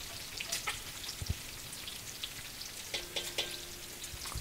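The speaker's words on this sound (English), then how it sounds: "I'm rendering the fat out of the bacon, cooking it up" Bacon frying in a pot with its fat rendering out, a soft continuous sizzle with scattered crackles and pops at close range and no talking.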